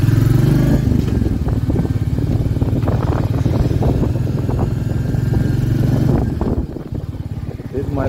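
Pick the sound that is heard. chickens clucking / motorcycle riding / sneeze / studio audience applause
motorcycle riding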